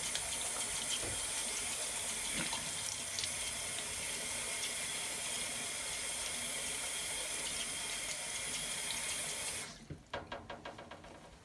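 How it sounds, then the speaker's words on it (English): Water runs steadily from a sink tap as a face is rinsed, a continuous close splashing flow that cuts off near the end, followed by a few drips and small clatters. "And then I like to just do one final rinse."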